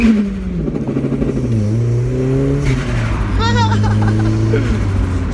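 A drift car's engine runs close by as a steady low drone whose pitch rises and falls slightly, with someone talking over it throughout.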